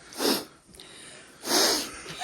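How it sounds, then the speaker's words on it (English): Heavy breathing after a winter hike in Marquette, Michigan: two loud, close, rasping breaths about a second apart, with quiet stillness between them. "here's your breathing"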